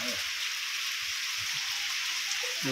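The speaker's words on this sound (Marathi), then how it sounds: "पाऊस आणलाय" Sudden heavy rain pours down in the Konkan countryside, a dense, even hiss of falling water that stays constant and fairly loud throughout, with no voices.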